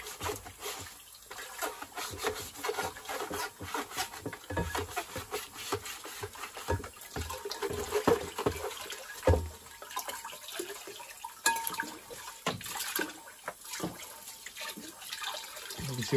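Dirty water draining from a Bosch condenser dryer found on the street, a steady close splashing and trickling stream with scattered drips, running throughout without speech.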